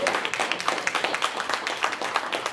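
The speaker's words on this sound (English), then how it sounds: "Can we give a round of applause for the panelists?" Audience at a restorative housing and food access summit claps for the panelists, a modest, fairly quiet patter of individual hand claps without voices.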